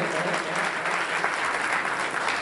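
A hall full of people gives steady, dense applause to welcome award recipients at a religious satsang grand finale, with continuous clapping that is loud and unbroken and has no speech over it.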